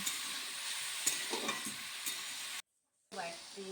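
Chopped bottle gourd hitting hot oil in a frying pan, giving a continuous bright sizzle with small stirring clatters. It cuts out briefly near the end, then the hiss resumes.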